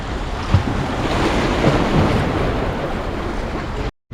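Sea waves washing onto a calm beach at Limassol, Cyprus, a steady broadband surf wash with gusts of wind buffeting the microphone, continuous and fairly loud for about four seconds before cutting off abruptly.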